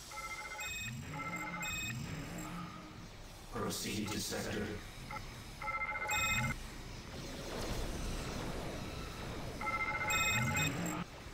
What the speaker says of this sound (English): It sounds like someone just won't answer their phone. It does. Yeah, sadly that is the broken sound effect.